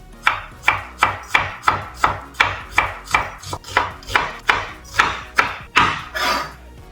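A knife chops half an onion on a cutting board, about fifteen crisp, evenly spaced strokes close up, each a sharp blade hit, with no talking.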